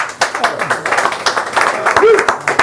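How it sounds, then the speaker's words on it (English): Audience at a Mayo television show clapping a team into the room, uneven rhythmic claps mixed with voices and cheering-like calls in a lively studio crowd. "We're going to clap them into the room"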